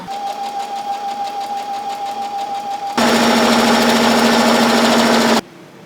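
A sewing machine joining the back pieces of a garment: a steady motor whir with a thin whine, then a loud, dense burst of fast stitching for about two and a half seconds that stops abruptly.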